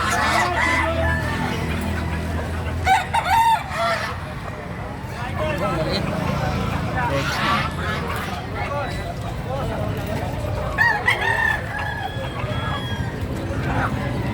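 Chickens cluck and a rooster crows amid a busy outdoor crowd where chickens are being sold, with people talking loudly throughout.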